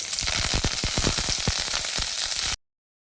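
Crushed unpeeled garlic and curry leaves crackle and spit in hot oil, a dense close sizzle with rapid popping bursts lasting a couple of seconds before cutting to silence.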